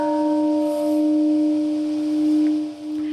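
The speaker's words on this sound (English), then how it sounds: "Bells tolling at the Hiroshima Peace Memorial Park in Japan." Bells toll at Hiroshima Peace Memorial Park in Japan, one sustained ringing tone with lingering overtones, clear and fairly close, with no talk.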